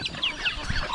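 Chickens clucking on a farm, a few short, close calls over a steady background murmur.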